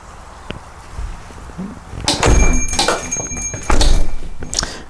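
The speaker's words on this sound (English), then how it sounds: "I'm going to close the door because my allergies are starting to bother me." A house door being closed: rustling and handling noises, then a loud thump and rattling as the door swings shut, followed by another firm knock of the latch, close and unaccompanied by speech.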